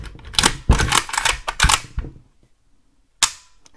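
The bolt of a milled WBP Mini Jack pistol is racked several times in quick succession. Sharp, close metallic clacks and slides come in a clustered burst, then a pause and one final clack.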